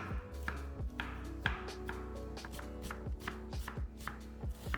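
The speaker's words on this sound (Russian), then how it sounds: "Нарезаем две луковицы небольшими кубиками." A knife dices two onions into small cubes on a cutting board, with quick, regular chopping taps in a close, steady rhythm.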